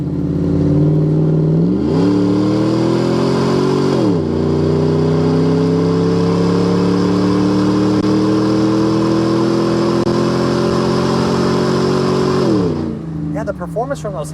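A 2007 Dodge Ram 1500 pickup with its 5.7 Hemi V8 accelerates on fresh blacktop, loud and close from inside the cab, climbing steadily through the revs with a couple of upshifts before the engine note eases near the end.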